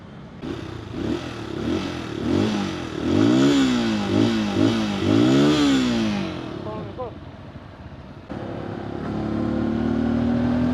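A motorcycle engine revving hard several times in quick succession, pitch sweeping up and down in close repeated bursts, then settling to a steadier drone, with people talking nearby.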